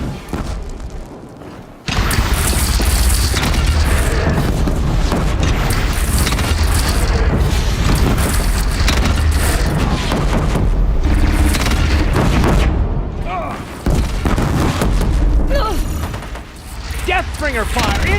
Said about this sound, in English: Deathbringer fire incoming!